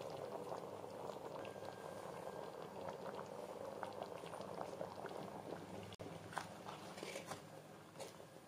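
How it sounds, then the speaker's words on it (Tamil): Thick Nilgiris mutton gravy bubbles and simmers steadily in a pan, with soft pops and gurgles, close and quiet, no talking. "அதை சேர்த்து 2 நிமிஷம் கொதிக்க வச்சு அடுப்புலேருந்து இறக்கிடலாங்க"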